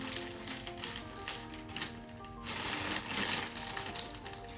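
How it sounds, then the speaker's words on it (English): Scissors snip and tear through a stiff plastic package from a clothing and cosmetics haul, giving a steady run of close, crinkly cutting and rustling with brief louder bursts, no speech. "grab my handy dandy scissors, because this package is pretty hard to open."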